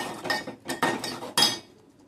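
Spices such as cumin powder, coriander powder and biryani masala being stirred into a pot for soybean pulao, three or four distinct clinks and scrapes of a spoon against metal, close and moderately quiet, no one speaking.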